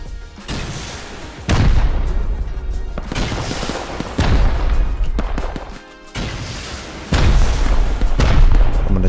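Loud rocket explosions in the survival game Rust, a series of heavy booming blasts every couple of seconds, each with a deep low thud and a long rumbling tail, with no talking.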